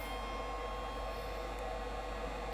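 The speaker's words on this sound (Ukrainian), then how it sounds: "Вентилятор включився." A small electric cooling fan inside a Chinese power inverter under repair runs with a steady, close whirring hum and faint electrical buzz, holding an even level throughout.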